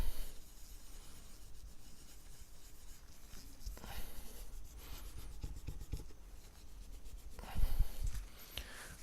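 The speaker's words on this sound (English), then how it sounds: "If you see a few spots that you kind of missed, or you didn't get clean, just go back, grab your cloth again." Cloth rubbing and wiping a guitar fretboard on a custom Strat neck, producing close, irregular scrubbing strokes with soft friction bursts that swell and fade, with no talking.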